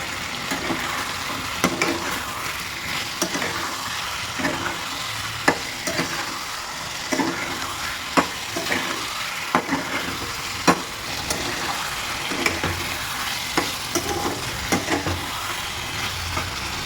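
Rohu fish is stir-fried with cauliflower, potato, tomato and spices, a steady sizzle punctuated by regular sharp scrapes and knocks of a spatula against the pan, close and without talk.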